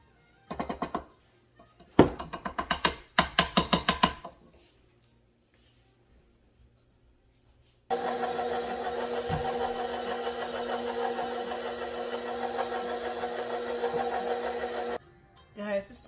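An electric mixer with a loud motor whirs steadily for several seconds while mixing strawberry cake batter, a close, continuous drone that follows a few bursts of sharp clattering and then cuts off abruptly.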